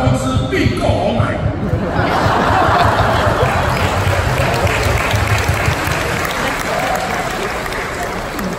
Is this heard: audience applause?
yes